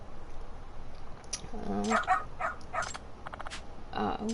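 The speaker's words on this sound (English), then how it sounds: "Cute doggy." A dog in the video game Lost Judgment gives a few short yips and barks, mixed with in-game voices and background sound.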